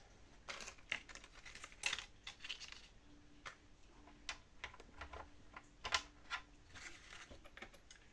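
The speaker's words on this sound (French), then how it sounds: "je change ma lame du massicot" Small clicks and light metallic taps as the blade of a paper trimmer is swapped out, faint and irregular, with short bursts spread across the stretch and no talking.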